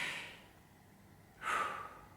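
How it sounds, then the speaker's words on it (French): Two audible breaths pass close to the microphone, a fading exhale at the start and a sharp inhale partway through, in an otherwise quiet room with no talking. "Je reprends ma respiration, si ça ne te dérange pas."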